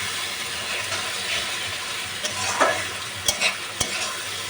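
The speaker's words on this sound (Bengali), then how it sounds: "দেখুন মশলাটা খুব সুন্দরভাবে বেশ কষানো হয়ে এসেছে আর মশলা থেকে সুন্দরভাবে তেল ছেড়ে আসছে" Masala with tomato and salt sizzles and hisses in hot oil as it is stir-fried for a catfish curry, a continuous close frying crackle broken by a few sharp spoon scrapes near the end.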